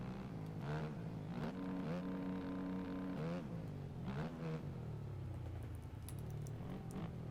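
Dirt bike engine revving at about half throttle through whoops on the Glendale supercross track in the MX Bikes game, a steady buzzing drone with rising and falling pitch sweeps.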